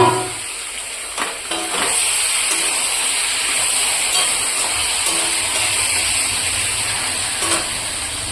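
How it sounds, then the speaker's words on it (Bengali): Meat is added to a pan of fried onions, garlic paste and cumin-chili paste, giving a loud, steady, close sizzle and hiss of frying that runs throughout with faint stirring scrapes. "এখন দিয়ে দিব মাংস।"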